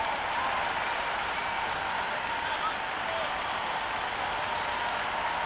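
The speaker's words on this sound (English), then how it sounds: "already the crowd making a hell of a racket" A stadium crowd roars steadily at a Big Bash League cricket match between Hobart Hurricanes and Melbourne Stars in the Cricket 26 video game, a dense, continuous wash of cheering and clapping that holds at a constant loud level.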